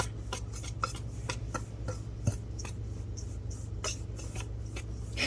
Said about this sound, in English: And now we're going to mix these really well, which is why we need the whisk.